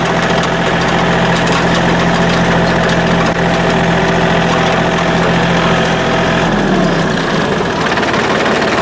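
A diesel lawn mower engine idles at a steady, close, throbbing rumble, then shuts off near the end and winds down to quiet. No one speaks.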